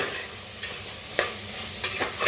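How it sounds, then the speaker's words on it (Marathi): Cauliflower and spices such as chili, coriander powder and garam masala are stirred and roasted in a pan for a gobi pulao, with a continuous low sizzle punctuated by four sharp spatula scrapes; nobody talks. "आता मिक्स करून भाजून घेऊया"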